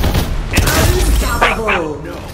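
Gunfire in the shooter game Farlight 84 comes through as a sharp shot and rapid mechanical bursts, mixed with game sound effects and a voice.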